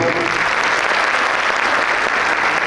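Continuous audience clapping at a children's choir programme, an even wash of many hands at moderate loudness with no pauses.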